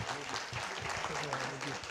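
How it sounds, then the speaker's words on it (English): Audience applause for a panel at an industry conference, a steady broadband patter of many hands filling the room, with some voices mixed in. "Please give them a warm round of applause again"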